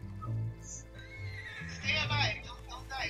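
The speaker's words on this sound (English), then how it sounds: "Okay, my horse is alive." A horse whinnies twice amid Red Dead Online game sounds, with a person talking over it.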